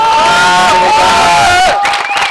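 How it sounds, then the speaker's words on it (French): A loud crowd at a Grand Raid event on La Réunion roars and cheers, with sustained whooping and shouted tones that end abruptly into scattered voices. "Oui, on peut l'applaudir."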